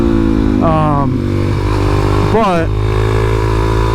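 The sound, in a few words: Suzuki DRZ400SM motorcycle engine while riding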